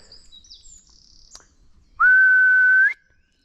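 A wren sings near a wildlife pond in spring, delivering one loud, clear sustained whistled note lasting about a second, preceded by faint higher chirps in a quiet background.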